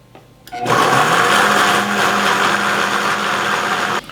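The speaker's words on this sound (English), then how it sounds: "So I'm going to press the smoothie button and let it get going" A Vitamix blender switched on for a blueberry banana smoothie: after a click, the motor jumps to a loud, steady high whir that runs for about three seconds, then cuts off sharply.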